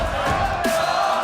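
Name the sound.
esports arena crowd cheering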